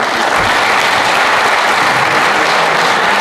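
An audience at a Turkish classical music concert applauds a local press team, a loud, dense, even burst of clapping that fills the whole stretch without pause.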